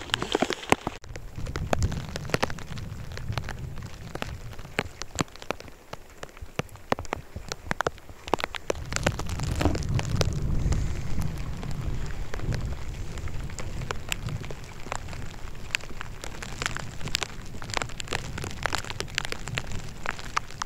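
Steady torrential rain falling on a surface at Lake Rogen, with many sharp drops pattering continuously throughout.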